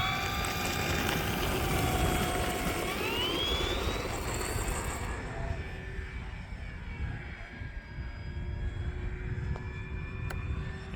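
An E-flite T-28 1.2 m RC model airplane on a 4S battery takes off on a wet day with flaps set, its electric motor whining loudly and rising in pitch as it climbs, then droning steadily farther off.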